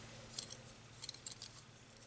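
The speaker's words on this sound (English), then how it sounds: "we're cutting just to the next hole so that there won't be any holes showing" Scissors snipping paper while trimming a cross stitch sled ornament, a few quiet crisp cuts in a close, hushed room over a low steady hum.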